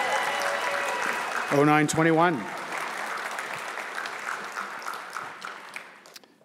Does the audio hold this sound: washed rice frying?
no